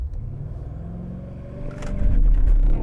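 A BMW X6M accelerates uphill, its deep engine rumble steady and loud at first, then swelling heavier and louder as the revs build near the end.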